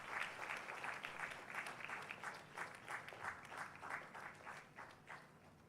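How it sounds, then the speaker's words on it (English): Sustained applause from a large convocation audience honouring graduates' parents and families, steady dense clapping throughout with slight swells, no talking over it. "Please give a round of applause for their ultimate support and sacrifice."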